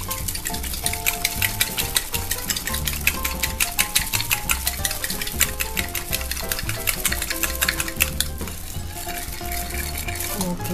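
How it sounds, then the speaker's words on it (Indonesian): A whisk beats warm pudding mixture with egg yolk in a bowl, producing fast, steady metallic ticking and scraping strokes throughout, close and fairly loud with no talk. "ambil sedikit dalam mangkok, campur dengan kuning telur, kocok sampai"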